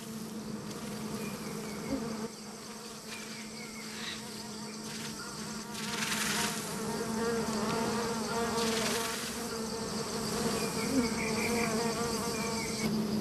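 A swarm of giant cliff bees fans and buzzes on an exposed honeycomb high on a cliff face, a dense, continuous droning hum that swells in waves and grows louder midway, with no voices.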